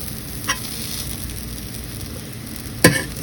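Spanish rice sizzling softly in a pan on the stove, with a steady low fry and two sharp scrapes as a spoon slides under the bottom and flips it.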